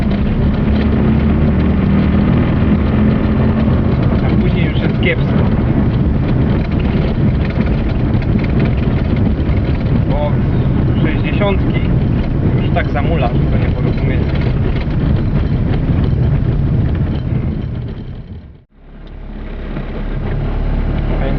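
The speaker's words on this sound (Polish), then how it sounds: "samochód się dobrze rozpędza" Small car with a 700 engine accelerating, a loud, steady engine drone with road rumble heard from inside, which cuts sharply near the end and then comes back.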